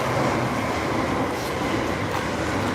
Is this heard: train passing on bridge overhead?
yes